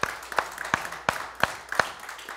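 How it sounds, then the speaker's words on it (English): Church congregation members clap their hands at a Sunday service, a sparse group of claps landing in a loose, evenly spaced rhythm, fairly quiet and close. "Give the Lord a hand clap"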